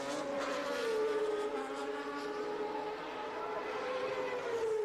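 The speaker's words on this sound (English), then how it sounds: "finally the Honda engine fired to a cheer from the pro-Honda crowd" A Honda Formula One engine from 1989 fires up at a race, its tone rising and wavering at moderate distance over a murmuring trackside crowd.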